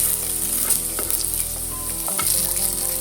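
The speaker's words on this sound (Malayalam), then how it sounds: "ഇനി മറ്റേ ഭാഗവും ഫ്രൈ ചെയ്തിട്ടെടുക്കാം." Pieces of chicken tikka shallow-fry in oil in a pan, giving a loud, steady, close sizzle with faint crackles and no talk over it.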